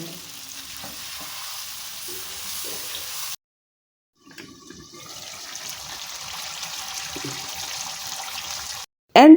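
Chicken karahi fries in a pan as masala is added, a steady sizzle and bubbling that pauses briefly midway, with faint stirring clatter and no talk.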